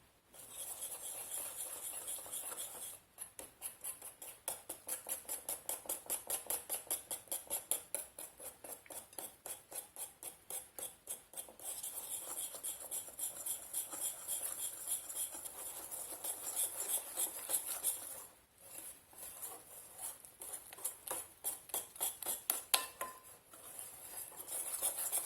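Yogurt cake batter of flour and egg being stirred in a bowl, a steady rapid scraping and clinking of utensil against the bowl that runs almost continuously, with a few short pauses, close and fairly loud with no talking.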